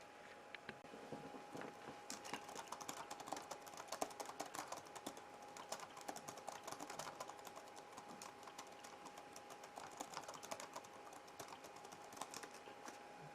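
Someone types steadily on the keyboard of an IBM ThinkPad 390X laptop, producing a continuous run of soft, close key clicks in a quiet room.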